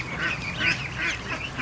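Ducklings, some of them Muscovy, in a hatching batch on a farm, give repeated small quacks and peeps, a close and fairly steady chatter with several calls overlapping through the clip.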